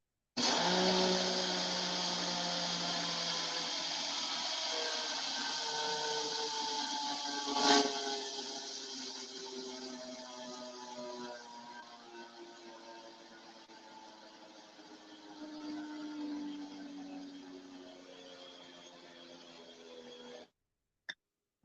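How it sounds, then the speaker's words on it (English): A small coffee grinder grinding quinoa into flour whirs continuously for about twenty seconds, its high whine slowly dropping in pitch, with a brief clunk partway through. "that's 3/4 of a cup of quinoa flour in the coffee grinder. It's going to get loud."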